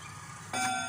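A pendulum clock strikes its bell once, a sudden bright ringing tone that rises over a low background hum and sustains to the end.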